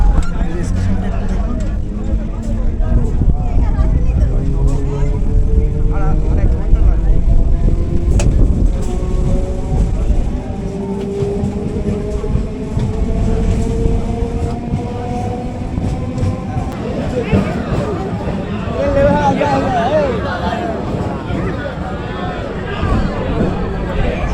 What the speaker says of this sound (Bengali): সেই জয়নগর থেকে এবার ট্রেন ছেড়ে দিল